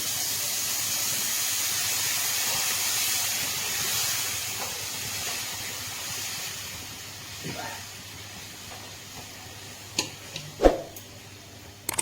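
Water poured into semolina frying in a pan, giving a steady loud sizzling hiss that slowly fades, followed by a few sharp clinks of utensils near the end; no talk.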